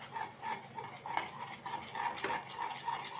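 A spoon scrapes and stirs spices frying in a pan for a raw banana curry, a steady rhythmic clinking over a soft sizzle, close and fairly quiet.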